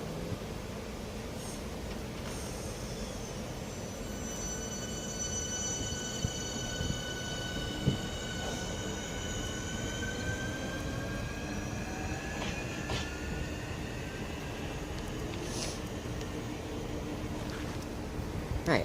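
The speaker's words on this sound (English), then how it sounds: "465-188 with 2 Alpha 50, the 1559 Southeastern service from Gillingham to London Charing Cross" A Class 465 Southeastern electric train on the Gillingham to London Charing Cross service at Dartford station on the North Kent Line, with rising motor whines and steady rolling rumble and rail noise throughout.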